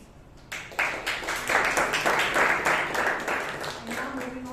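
A room of attendees at a Bangalore Toastmasters club meeting breaks into applause after a speaker's talk. The clapping rises after a short quiet start, stays full and even through the middle, then thins slightly toward the end.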